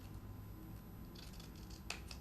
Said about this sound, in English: And now all I have to do is take a pair of scissors